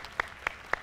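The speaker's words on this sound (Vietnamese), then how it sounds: "chúng ta phải dành một tràng vỗ tay thật lớn cho nhà gái đi ạ" Three sparse, separate claps ring out faintly at even intervals for the bride's family on a Vietnamese television game show, with no voices.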